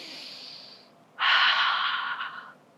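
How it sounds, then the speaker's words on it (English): A deep, audible breath drawn in at a hula workshop: a soft airy hiss first, then a louder, fuller inhale lasting over a second, close and clear with no talking. "Take a deep breath in"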